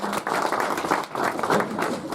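An audience at a CSS tech meetup applauds, with many hands clapping in a dense, steady burst that fills the room for about two seconds.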